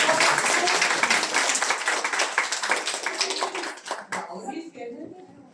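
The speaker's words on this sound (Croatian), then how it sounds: "Bravo, aplauz." An audience claps after children perform an eco-themed song: steady, full applause for about four seconds that stops abruptly, leaving faint room sound and light voices.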